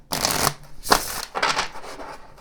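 A deck of tarot cards being shuffled by hand, three quick riffling bursts close up, each a crisp papery flutter separated by brief pauses.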